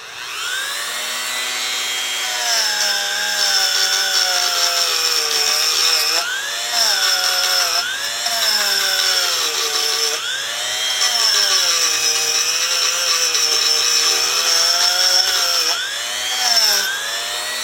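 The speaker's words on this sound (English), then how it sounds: "get my little Dremel out here with a wire wheel." A small Dremel rotary tool spins a wire wheel against a Ford F100 vent window part, giving a steady close high-pitched whine that rises and dips as pressure changes, running continuously without speech.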